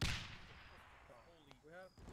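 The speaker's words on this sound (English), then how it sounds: "Oh, explosions closer." In an Arma 3 military simulation battle, a loud blast opens, followed by rumbling distant explosions, with a short voice near the end.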